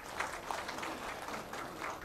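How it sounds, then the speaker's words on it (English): Audience clapping at a police flag raising ceremony, a steady dense wash of applause that holds through to the end at an even level, with no voices standing out. "Let us give him another big round of applause"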